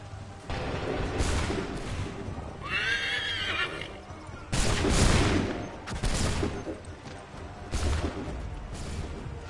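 A musket volley fired on command in the Assassin's Creed 3 video game, heard as several loud, sharp cracks spread across the stretch. A horse whinnies clearly in between, and hooves clop faintly.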